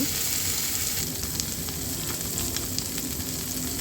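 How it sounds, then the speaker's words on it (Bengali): Taki fish pieces laid into hot mustard oil after dried red chillies were fried, giving a continuous close sizzle and crackle that holds evenly from start to finish. "মরিচগুলো ভাজা হয়ে গিয়েছে এখন এক এক করে মাছগুলো দিয়ে দিব"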